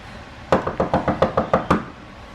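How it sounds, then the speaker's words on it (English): A door at Dorothy's House in Liberal, Kansas, a Wizard of Oz attraction, is knocked on eight times in a quick, fairly even series of close, loud raps, with brief quiet before and after. "He wants to help me knock so we can get inside."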